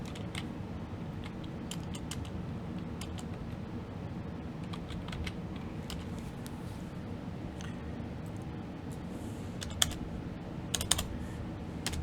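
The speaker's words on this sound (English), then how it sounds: "let me just type it in here" Fingers type on a computer keyboard in a quiet room, a continuous patter of soft clicks with occasional sharper key taps, close and faint, with no talking.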